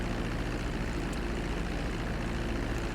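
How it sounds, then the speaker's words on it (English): Steady low propeller-engine drone of a hurricane hunter aircraft taxiing toward the active runway at Lakeland, Florida, in the GTA 5 video game, a constant close hum with no talk over it. "let's taxi towards the active runway here"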